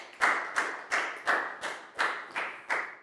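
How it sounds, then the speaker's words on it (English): A school classroom of Year 4 pupils claps for a classmate, with eight evenly spaced, fairly loud clap bursts in a steady rhythm and no talking. "Big round of applause for Pat, please, guys."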